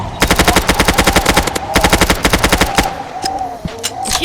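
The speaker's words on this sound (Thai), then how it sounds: "ไอ้นุ่ม ไปยิงมันครับ" Rapid automatic gunfire rings out in the Roblox game Mad City, loud and close, in two long rhythmic bursts followed by a few scattered single shots.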